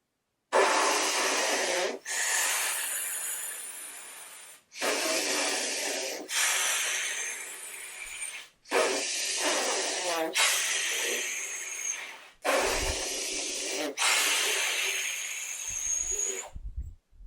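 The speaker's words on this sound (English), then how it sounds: "You just heard me circular breathe 4 times in a row." Saxophone sustained with circular breathing, four long airy breathy tones separated by brief dips as each breath is taken, close and fairly loud with strong breath noise.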